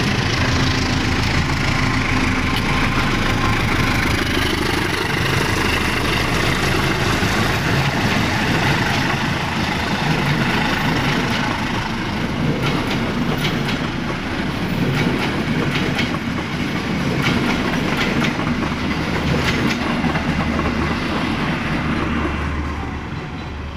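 Bandung Raya local train from Cicalengka to Padalarang passing close by, a loud continuous rumble with rhythmic clickety-clack of wheels over rail joints lasting the whole time, with no voices.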